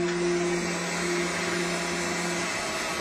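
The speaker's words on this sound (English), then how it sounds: "the cutter goes through the same slot that it already engraved in order to clean it up" A CNC engraver reruns an engraving pass on ADA signage with the spindle rotation off, the cutter tracing an already engraved slot; a steady, continuous machine whine with a strong low hum runs throughout, no talk.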